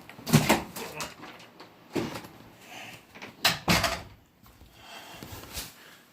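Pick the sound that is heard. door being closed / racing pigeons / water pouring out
door being closed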